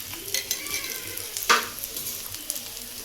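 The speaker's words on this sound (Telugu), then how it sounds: "చేపల ఫ్రై నూనెలో ఎలా వేగుతుందో చూడండి" Fish fry frying in hot oil in a home kitchen, a continuous close sizzle with a few stirring or turning scrapes, one sharper clatter in the middle, no voices.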